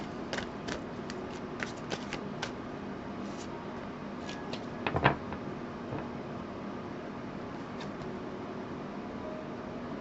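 Oracle cards being shuffled and drawn, a string of soft riffling flicks and slaps close by, with a louder cluster of snaps midway over faint background hiss; no talk.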